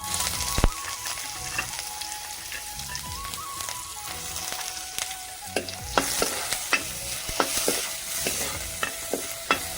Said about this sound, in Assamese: তাৰপাছত বনাম এয়া ভাজি, ব্ৰকলি ভাজি